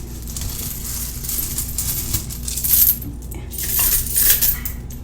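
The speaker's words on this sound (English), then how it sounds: "Now let's take all of the coins" A handful of coins clinks and jingles as it drops into a money bowl, with metallic rattling that rises in two busier bursts over several seconds, close and bright.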